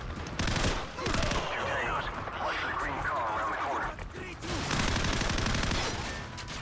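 Dense gunfire from the Call of Duty 4 video game, bursts of rapid shots and fusillade layered with game effects and voices, loud and continuous for several seconds with a brief lull near the end.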